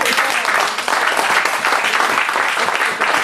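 A church congregation applauds together, a dense, continuous wash of many hands clapping that stays loud and steady from start to finish.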